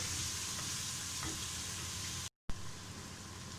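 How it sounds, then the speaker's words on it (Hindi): Spices with salt, turmeric and red chili powder frying with meat in a pot for bitter gourd curry, a steady close sizzle with faint stirring scrapes, briefly cut to silence before resuming. "इसको हम अच्छी तरह भूनेंगे"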